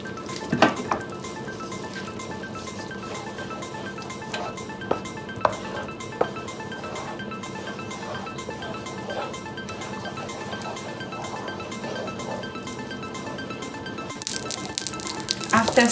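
A spoon scrapes and clinks against a pot as tomato paste is stirred into a spicy Ghana stew, soft and irregular, with a voice speaking over it and louder clatter near the end.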